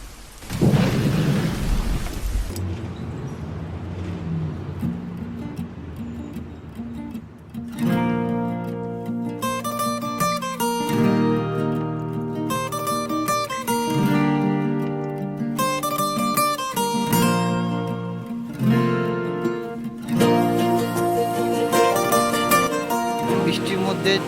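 Heavy rain pours with thunder during a cyclone on Saint Martin's Island by a rough sea, a dense steady roar opening with a loud rumbling burst, while music plays over it.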